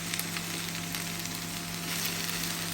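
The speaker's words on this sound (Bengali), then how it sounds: "কিছু ভেন্ডি ভাজি করতেছি" Okra frying in a pan, a steady close sizzle with a continuous crackling hiss and faint stirring, a low hum underneath, no talk.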